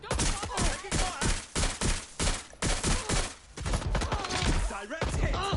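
Gunfire in the video game Watch Dogs: Legion, a rapid, loud run of closely spaced shots in quick rhythmic bursts with dense crackle between them, close and continuous throughout.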